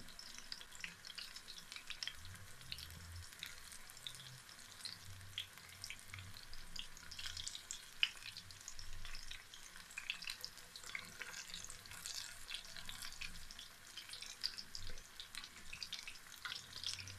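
Oil sizzles and crackles steadily as potato pakoras fry over medium heat, a soft continuous spatter with no talking.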